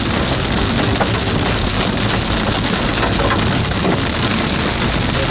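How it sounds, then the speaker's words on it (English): Hail falls during a Texas supercell storm, with a dense, constant roar of stones striking surfaces close by and no pauses. "Starting to get a little bit bigger hail now."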